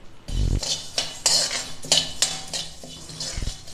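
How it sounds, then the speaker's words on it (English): Coriander (dhania) seeds spluttering as they dry-roast in a hot pan, giving faint crackles and pops with a few metallic scrapes and clinks of a spoon against the pan, and no talking. "Now you can hear the spluttering of the dhania seeds."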